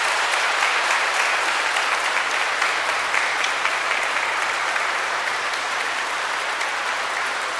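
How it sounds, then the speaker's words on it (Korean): A church congregation applauds newly confirmed recipients at a Catholic confirmation Mass, a full, even wash of many hands clapping that holds steady throughout without speech. "우리 견진성사 받은 분들에게 다 같이 큰 박수로"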